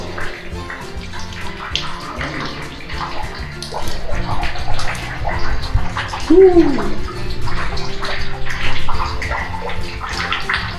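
Water pours and splashes steadily like a shower inside a cave, reverberant, with a voice briefly exclaiming partway through.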